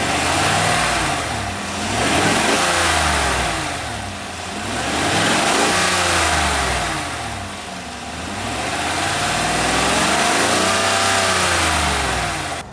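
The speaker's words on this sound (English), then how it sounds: "I'm going to try to accelerate it and you'll hear for yourself." A car engine with a reported clunking or knocking noise on cold start revs up and down repeatedly, three long rising and falling sweeps, loud and close with no talking.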